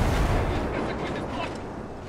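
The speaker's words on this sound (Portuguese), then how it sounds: "Nós explodiu o helicóptero, velho." A helicopter blows up in a shooting video game, a loud booming blast that rumbles and fades over a couple of seconds, with no talk over it.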